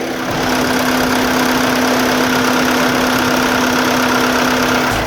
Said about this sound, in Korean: 전형적인 디젤의 엔진음까지 만나봤고요